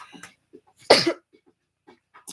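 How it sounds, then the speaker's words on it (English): A single loud sneeze bursts out near the middle, sharp and close, set among quiet breaths and faint throat sounds in an otherwise still room, with a brief hiss at the very end. "I feel like I'm going to sneeze."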